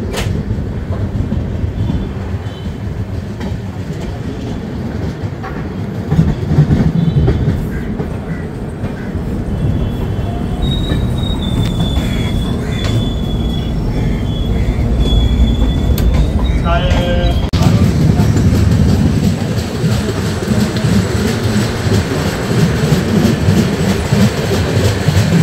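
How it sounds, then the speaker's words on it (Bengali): Mithila Express passenger train rolls along the rails from inside a 2AC coach, a loud continuous rumble with rhythmic clatter and a thin wheel squeal rising midway, while a voice speaks over it. "আমাদের ট্রেনের পরবর্তী স্টপেজ হলো ব্যান্ডেল জাংশন"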